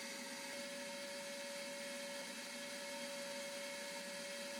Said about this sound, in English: So just turn on the vacuum, attach the end, and put the plastic tube in the liquid and it'll start drawing.